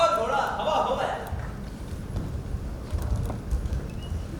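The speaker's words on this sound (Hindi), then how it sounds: "बुढ़िया घोड़े पर सवार हुआ, फेड़ लगाई और घोड़ा हवा हो गया।" In a stage play, a horse-galloping sound effect gives quick hoof clops that fade away over a few seconds beneath a narrator's voice.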